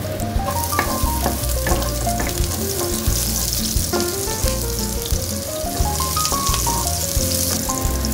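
Garlic and onions fry in a frying pan with a steady sizzle and scattered crackles and pops, with the clatter of stirring mixed in, close and continuous.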